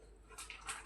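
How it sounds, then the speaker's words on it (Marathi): Water is poured into a pot of milk in a kitchen, a brief, faint splash and trickle lasting under a second. "पाणी टाकूया"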